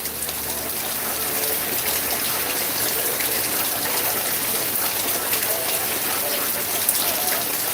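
Hard rain pours down in a dense, unbroken hiss that stays loud and steady from start to finish, with no voices.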